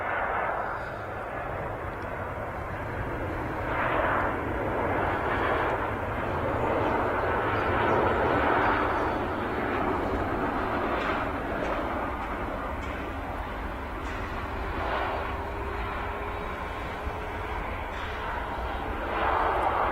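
An EasyJet Airbus A320 landing at Manchester Airport makes a steady, distant jet rumble that swells gently and fades, with faint intermittent thuds and no voices heard.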